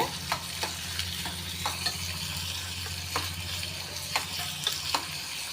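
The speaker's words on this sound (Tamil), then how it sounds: "ரெண்டையுமே நல்ல ப்ரௌன் கலரில் வர வரைக்கும் நல்லா வதக்கி எடுத்துக்கோங்க" Garlic and small chopped onions sauté in a pan until brown for a spicy chutney, giving a steady close sizzle broken by repeated scraping stir clicks.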